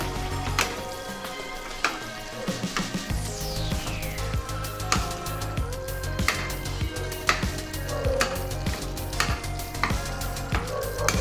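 Mutton charsi karahi frying in a pan and stirred steadily, a constant loud sizzle with repeated metallic scrapes and clinks of the utensil against the pot.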